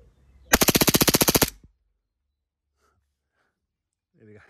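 An ICS ICP airsoft replica pistol fires a rapid full-auto burst of about fifteen sharp, evenly spaced shots lasting roughly one second, loud and close, then silence before a brief voice.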